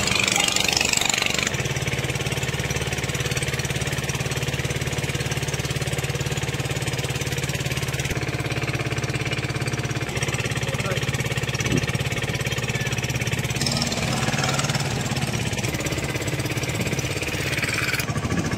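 A boat engine drones steadily as the boat runs along the bank of the Narmada river near Omkareshwar, with a continuous low hum and engine noise throughout and a person talking over it.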